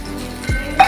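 Spice mixture frying in a pan for a papaya and Nile tilapia fish curry, a brief close sizzle with a short clatter of stirring near the end.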